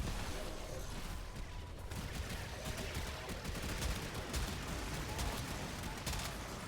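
Rapid gunfire in the video game Blightfall, a dense, loud stream of shots running continuously with a voice talking over it.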